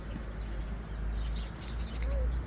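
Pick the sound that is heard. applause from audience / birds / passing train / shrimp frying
birds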